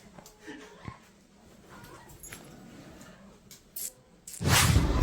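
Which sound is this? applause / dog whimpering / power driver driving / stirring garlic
dog whimpering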